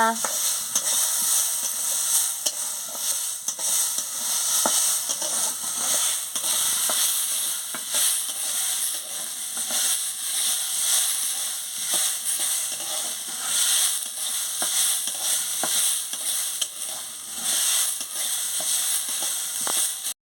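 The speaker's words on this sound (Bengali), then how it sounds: "ডালটা দিয়ে আমি ভালো করে ভেজে নিচ্ছি" Mung dal frying in hot oil for a greens-and-dal dish, a continuous loud bright sizzle with frequent spatula scrapes and stirs throughout, no talking.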